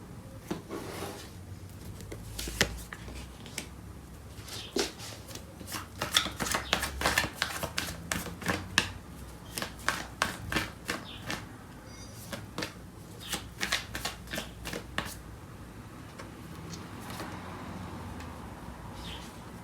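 Tarot cards being shuffled by hand, a run of crisp riffling and slapping bursts repeating at close range over a faint room background, with no talking.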